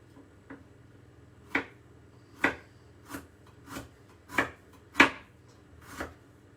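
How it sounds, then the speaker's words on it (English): A knife chops ginger finely on a board in about eight sharp, separate knocks at a loose, unhurried pace, clear in a quiet kitchen. "Really finely chopping our ginger here."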